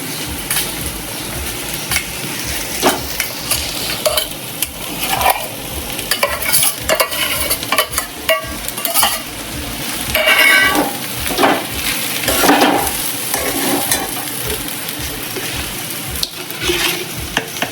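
Soaked sago pearls are stirred and fried in a pan with potatoes and chillies for khichdi. A continuous sizzle runs under frequent scraping and clattering spatula strokes, close up, with no voices.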